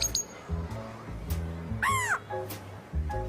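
A parrot mimics the calls of local birds, giving a quick string of harsh squawks, short chirps and one swooping, warbling whistle against a low background hum.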